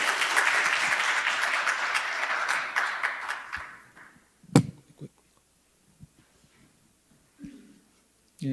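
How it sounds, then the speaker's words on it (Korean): An audience at a forum claps in steady applause that fades out after about four seconds, leaving a quiet room with a few scattered knocks and shuffles. "큰 박수 주시기 바랍니다"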